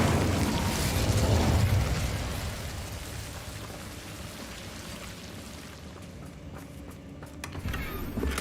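An Incendio fire spell cast in Hogwarts Legacy bursts with a loud whooshing flare at the start, then fades into a softer crackling, rain-like hiss that lingers with a low game hum underneath.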